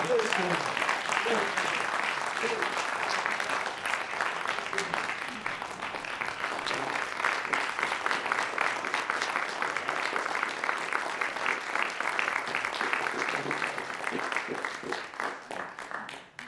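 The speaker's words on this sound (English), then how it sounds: "One more round of applause." Sustained audience applause closes a university presidential lecture. The clapping is dense and continuous at a steady moderate level for over fifteen seconds, with a faint voice beneath at the start before it tapers off at the end.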